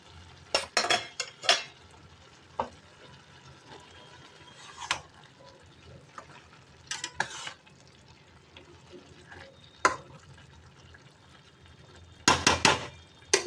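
Paneer going into a pot of rice cooking for aloo paneer pulao: quiet, scattered clanks and scrapes of a utensil against the pot, with a few sharper knocks near the start and the end over a soft background.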